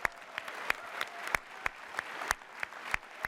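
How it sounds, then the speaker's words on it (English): Scattered, distinct hand claps from an audience at the PlayStation Experience 2015 event, sounding as a thin round of applause with uneven, spaced-out claps rather than a dense roar. "I'd like to give a round of applause to the developers that have worked so hard to make PS4 awesome"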